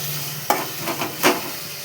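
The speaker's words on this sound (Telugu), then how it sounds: "దోసకాయ ముక్కలు ఇందులో వేసుకొని బాగా కలపాలి" Cucumber pieces stirred into cooked tomato in a frying pan, a steady close sizzle broken by a few distinct scraping stirs of the spoon.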